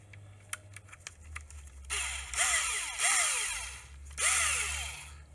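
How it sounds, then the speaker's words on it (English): An auto-loading power screwdriver backs out screws while disassembling a SUB 2000: a few sharp clicks, then three close, loud whirring motor bursts, each rising and winding down. "I, of course, will be using a auto-loading screwdriver."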